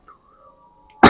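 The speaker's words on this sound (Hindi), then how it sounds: "बीच बीच में खांसी होते रहेगा, तो इसे नजरअंदाज कीजिएगा" A single sharp cough bursts out loud and close at the very end, after near silence with a faint tone.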